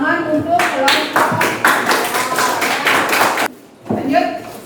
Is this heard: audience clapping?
yes